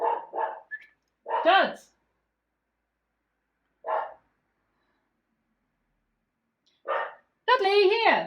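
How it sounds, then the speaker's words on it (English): A dog barks in a few short bursts indoors, mixed with a man's calls and spoken words between quiet gaps. "Now stop barking, I'm filming."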